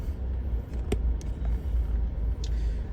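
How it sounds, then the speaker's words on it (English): A car drives toward the listener past construction sites and a small shopping strip in North Port, Florida, a steady low engine and road rumble close by with no talk. "Why is this guy driving at me?"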